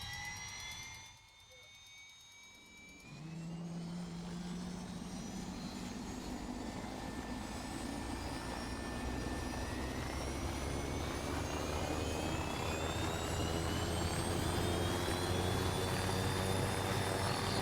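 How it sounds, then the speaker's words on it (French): Helicopter lifting off from the Kavala heliport in the ArmA video game: after a brief lull the turbine whine and rotor roar swell in and hold loud and steady, with rising engine tones and no talk. "Demande d'autorisation de décoller de l'héliport de Kavala."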